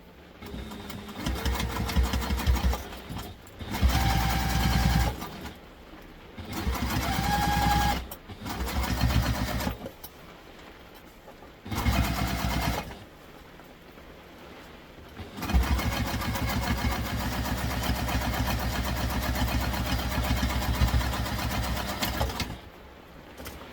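A sewing machine runs in several bursts, top stitching across the pocket of a Wayfarer II backpack, with a steady mechanical whir, close and fairly loud, separated by short pauses and no talk.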